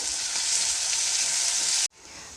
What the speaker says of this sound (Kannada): ಈರುಳ್ಳಿನ ಒಂದು ಸ್ವಲ್ಪ ಬ್ರೌನ್ ಕಲರ್ ಬರೋವರೆಗೂ ಫ್ರೈ ಮಾಡ್ಕೊಳ್ಳಿ